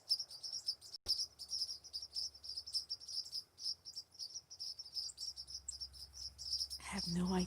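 Unidentified bird calling outdoors on a walk through woods where bears roam, with steady repeated high chirps over a continuous insect-like drone, and a louder rustle near the end.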